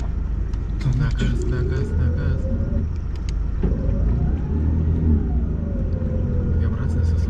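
A car engine rumbles low and steady as the vehicle reverses slowly, its hum rising and falling in pitch close by while people talk over it.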